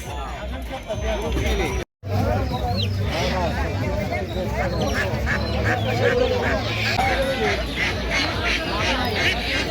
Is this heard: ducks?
yes